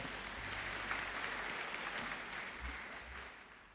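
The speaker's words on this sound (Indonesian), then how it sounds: "Tepuk tangan dong untuk Kiko." A church congregation at a thanksgiving service claps for Kiko, a sustained, fairly even wash of applause from many hands that tapers slightly at the end.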